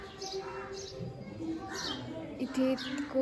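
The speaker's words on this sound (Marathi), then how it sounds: "हा जो पक्ष्यांचा किलबिलाट आहे ना, हे ओरिजिनल आहे" Birds chirp and coo around a temple on the Ashtavinayak pilgrimage near Pune, with scattered high calls and a few steadier tones over a soft, continuous background.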